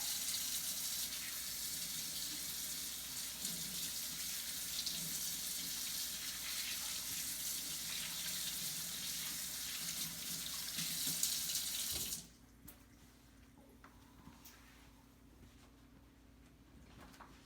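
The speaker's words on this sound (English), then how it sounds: "It's really important to wash your hands for at least 20 seconds first before any meal preparation." Tap water runs steadily into a sink for hand washing, a close, even hiss and splash lasting about twelve seconds before it shuts off abruptly, leaving a quiet room.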